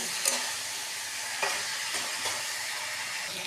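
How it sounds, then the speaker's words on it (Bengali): Spice masala with tomato, turmeric and salt sautéing in a pan, a steady close hiss of frying oil with a few soft stirring scrapes and light pops, no voices. "এবার এটাকে একটু ভালো মতো কষাবো"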